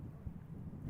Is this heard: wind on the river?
yes